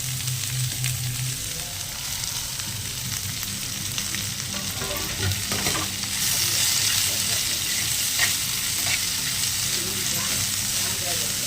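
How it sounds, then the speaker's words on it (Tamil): Onions with green and dried red chillies sautéing in oil for paniyaram, a steady loud sizzle and hiss with occasional stirring scrapes, close and continuous throughout. "நல்லா வதக்குங்க வெங்காயம் வந்துட்டு நல்ல ப்ரௌன் கலரில் வரணும்"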